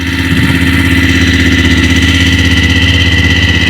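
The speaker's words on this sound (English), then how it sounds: "I have to switch on my motorcycle for that." A BMW F-850 GSA motorcycle engine idles steadily after being switched on, giving a close, even, low throbbing rumble with a regular pulse that holds throughout, with no voices.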